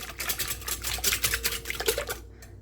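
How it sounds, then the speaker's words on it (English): Eggs whisked by hand in a bowl for a simple fig cake, giving a fast run of close, rhythmic clicking and scraping strokes that stops shortly before the end. "So I'm starting by whisking my eggs."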